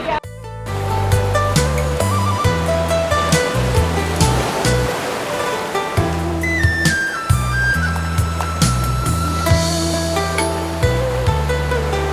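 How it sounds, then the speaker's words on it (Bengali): Sea waves at Saint Martin island surge and wash continuously, loud and close, under a steady musical backing. "এই দিক থেকেও সমুদ্রের ঢেউ আসতেছে"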